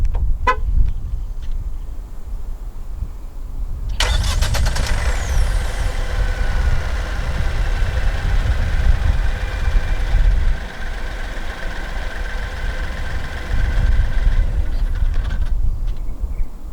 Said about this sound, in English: The S70 in Malaysia does come standard with a remote engine start system